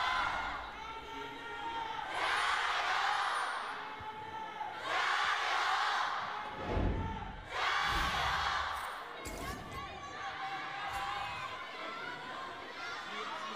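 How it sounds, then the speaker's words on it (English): Excited esports crowd at an LPL match between OMG and EDG, cheering, whooping and chanting in loud surging waves that swell and fade across the arena, with a caster's voice talking over it. "You can't tell what they're chanting for. You just know that they're all super excited."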